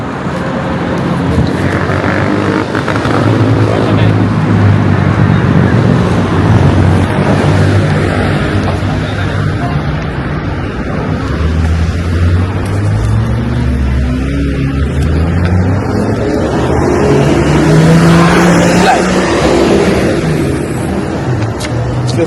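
Steady, loud roar of main-road traffic heard up close while crossing, a continuous wash of engine and tyre noise with passing vehicles swelling and fading, no clear speech.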